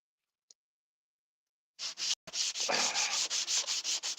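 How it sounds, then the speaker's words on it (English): A brief tap, a pause, then steady rhythmic back-and-forth sanding strokes, close and scratchy with a soft wet hiss. "well, back to the wet sanding."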